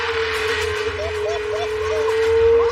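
A car engine revving at a race track, a loud sustained droning tone with shifting pitch that swells toward the end, while a voice talks excitedly over it.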